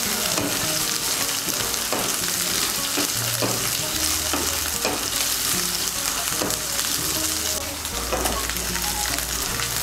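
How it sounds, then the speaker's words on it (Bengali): Cauliflower florets fry in hot oil in a pan for vegetable chira pulao, a steady close, loud sizzle running throughout with occasional stirring scrapes and no talk. "ফুলকপিটাকেও তেলের সঙ্গে মিশিয়ে নিয়ে একটু ভেজে নেব।"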